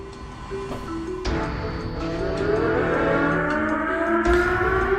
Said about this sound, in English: The emergency mobilization siren blares here at the Akihabara fire station.